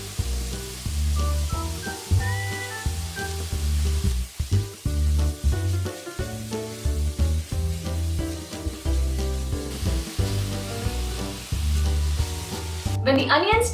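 Finely chopped onion frying in a pan with ginger garlic paste for paneer bhurji, a continuous sizzle running beneath prominent background music, with a brief sharper burst at the very end.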